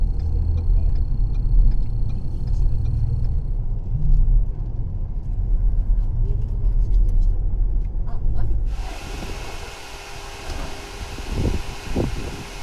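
Steady low road and engine rumble of a car driving on a freeway toward Honolulu, continuous from inside the cabin, giving way near the end to a broader hiss and some faint ticking.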